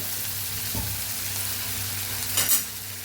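Tomatoes with salt cooking in a pan, a soft continuous sizzle under a low hum, with a short louder burst of spattering toward the end.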